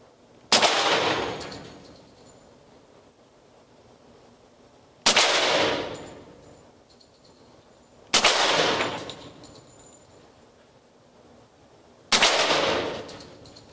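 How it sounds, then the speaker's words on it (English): An FNX 45 pistol fitted with a SilencerCo Osprey suppressor fires four loud, close single shots, spaced several seconds apart. Each sharp crack decays quickly into quiet. "It's the FNX 45 with a silencer co, Osprey suppressor."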